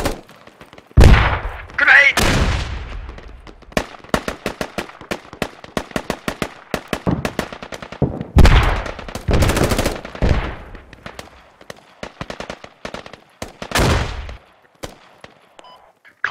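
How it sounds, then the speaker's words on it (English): Rifles fire in automatic bursts in the military shooter game Squad, with loud, rapid cracks in dense volleys and scattered single shots over about sixteen seconds, heavy and close, with lulls between bursts. "Set up some automatic fire."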